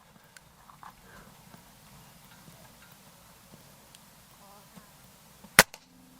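A Gamo Shadow Elite .22 break-barrel air rifle fires one sharp, close crack near the end, followed by a brief rattle, against a quiet, faintly rustling background.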